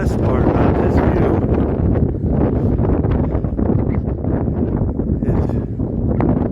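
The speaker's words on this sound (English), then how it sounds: "Sorry about the shaking, but that's the wind. I'm sure you can hear it in the microphone." Strong gusts buffet a microphone on Standing Indian Mountain along the Appalachian Trail, a loud, continuous low rumble and flutter that swells and eases with each gust.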